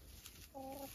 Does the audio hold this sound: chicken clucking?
yes